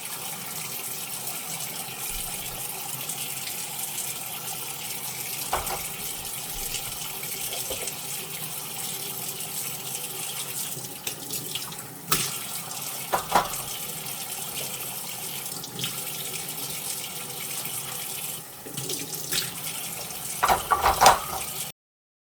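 Tap water runs steadily into a kitchen sink while wooden utensils are rinsed, a continuous gushing flow broken by a few clattering knocks and louder splashes toward the end.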